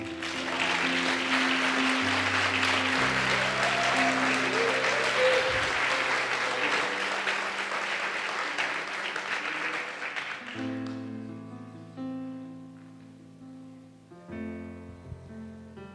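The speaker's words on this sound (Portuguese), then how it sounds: "Dá um aplauso aí ao Senhor." A congregation at a church conference claps for the Lord, a full, sustained round of applause over organ or keyboard chords, thinning out as the music carries on alone near the end.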